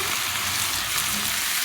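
Marinated chicken pieces fry in a hot pan for a chicken cheese bun filling, a loud, dense, continuous sizzle close up with no pauses and no voices.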